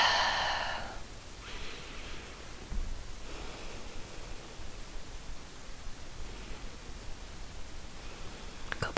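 Slow, deep breathing during a high-energy hip-opening yoga flow: a strong breathy exhale at the start, then a steady airy hiss with softer breaths rising and falling, close to the microphone, with no talking.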